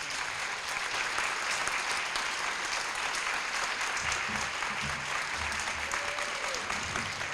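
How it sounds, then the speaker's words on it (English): Steady, dense applause from a banquet audience honoring a family at an educator of the year event, sustained and fairly distant, without pause throughout. "Can we give another round of applause for this wonderful family?"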